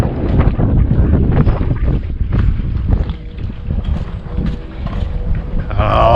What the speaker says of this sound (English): It's windy, but it's still nice and warm out.